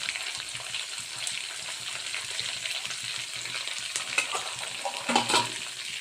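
Garlic and coriander frying in a pan for a Chettinad pirandai kuzhambu, a steady close sizzle with scraping stir strokes and a louder burst of spatter near the end.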